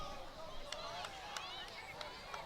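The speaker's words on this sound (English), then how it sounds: "It's nice to hear the crowd noise, but we're also listening in on conversations" At a high school boys varsity football game between Abington Green Wave and East Bridgewater Vikings, a faint, distant crowd murmurs with overlapping conversation and scattered shouts, plus a few sharp whistle-like or squeaky accents.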